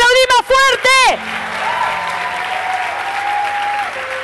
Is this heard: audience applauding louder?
yes